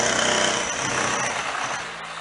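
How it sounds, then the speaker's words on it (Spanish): Drills hammer nearby in a loud, dense, continuous rattling roar that fills the whole stretch without pause. "¡Ya verás tú aquí los taladros!"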